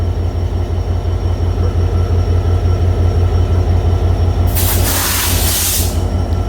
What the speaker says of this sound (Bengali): আর আমাদের ট্রেনটি এখন যশোর জংশন রেল স্টেশনের 1 নং প্ল্যাটফর্ম ছেড়ে যাচ্ছে।